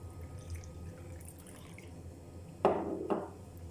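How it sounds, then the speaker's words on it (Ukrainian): After a quiet room hum, cold water splashes twice in short bursts, poured close by onto gelatin in a cut-off plastic bottle. "Спочатку холодною водою заливаємо желатин"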